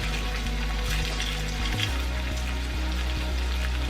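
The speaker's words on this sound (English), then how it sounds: "you're going to heat up a pan with oil, and once it's heated, you're going to put in the sopes so that they can fry" Sopes frying in hot oil in a pan, a steady close sizzle and crackle with a low hum underneath and a brief bump partway through, no talking.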